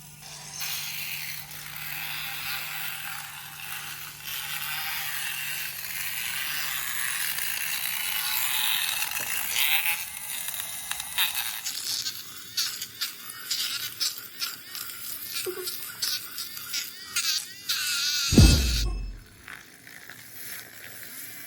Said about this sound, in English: Now we can actually start using our electric whisk.